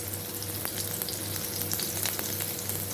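Coated prawns frying in hot oil on a tawa, with a dense crackling sizzle full of rapid pops and spits, close and steady throughout.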